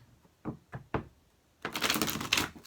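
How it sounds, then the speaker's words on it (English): A few soft thumps and taps, then a quick rustling, riffling burst of tarot cards being shuffled, fairly faint and close. "let me shuffle this real quick"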